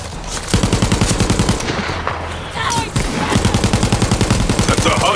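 Rapid automatic gunfire from a weapon in Borderlands 3 rattles in loud, close bursts, with a short pause midway before the burst resumes, game effects layered over it.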